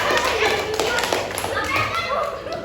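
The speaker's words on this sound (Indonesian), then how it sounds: "Oke, beri tepuk tangan untuk kelompok sawah 3 ya." Children in a fifth-grade classroom clap for a group, a quick burst of scattered hand claps and taps mixed with young voices chattering.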